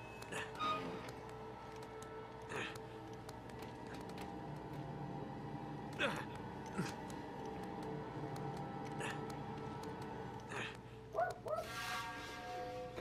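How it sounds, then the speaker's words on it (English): A dog barks in short scattered bursts in the background, faint and distant, over a steady low hum. "Could probably also hear one of my dogs in the background barking."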